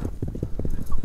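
Rapid rhythmic hoofbeats of a horse running on open ground at a horse market in Jalal-Abad, close and brief, with voices talking over it.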